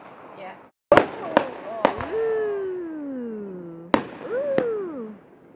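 Fireworks at a Fourth of July backyard display send several sharp, loud bangs in an irregular sequence. Wavering sliding tones and excited voices rise and fall between the blasts.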